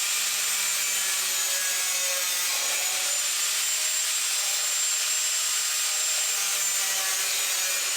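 Metal grilles for a dog cage are cut in a steady, continuous harsh hiss and grind that runs loud and unbroken throughout, close by with no speech.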